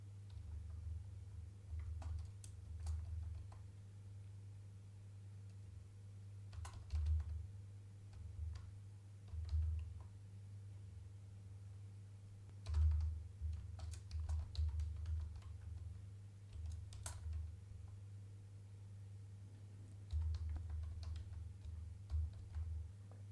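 Someone types on a computer keyboard in quiet, irregular bursts of soft clicks, with pauses between runs of keystrokes over a low steady hum.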